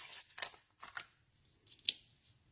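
Scissors snip through craft paper while cutting out a paper flower shape, several quick, crisp cuts close by, quiet and intermittent with short pauses between them.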